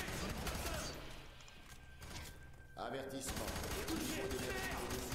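A magazine is emptied in the video game F.E.A.R. 3, with sustained loud automatic gunfire that dips briefly before resuming heavily. Someone talks over part of it.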